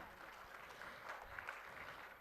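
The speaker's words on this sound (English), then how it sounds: "why he deserves a louder applause" Faint applause from an audience at an NPTEL felicitation workshop, a soft steady patter of clapping heard from a distance for a couple of seconds.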